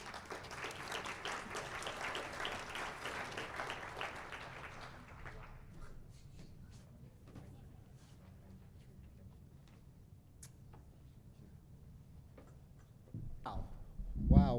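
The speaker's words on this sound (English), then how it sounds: "Wow, can we give a round of applause there?" A town hall audience applauds for several seconds, then the clapping fades into a quiet room with scattered claps and faint noises before a louder thump near the end.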